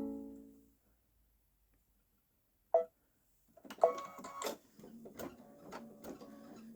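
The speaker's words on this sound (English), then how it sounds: "I'm back at the Babylock Solaris embroidering again, and I'm doing this on a t-shirt." A Babylock Solaris embroidery machine stitching a design onto a t-shirt starts up after a near-silent pause and a couple of short clicks, then runs in quick mechanical bursts with rhythmic whirring, close by and moderately quiet.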